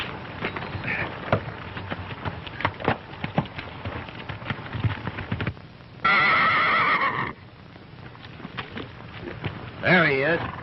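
Horse on a 1935 western trail, with clopping hoofbeats under talk, then a loud, wavering neigh standing alone and a second whinny near the end.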